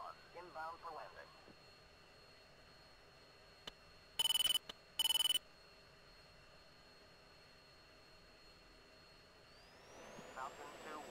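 A jet fighter idles and spools up for takeoff in the Falcon 4 BMS flight simulator, a faint steady engine whine with a rising tone near the end, interrupted by two short bursts of radio squelch.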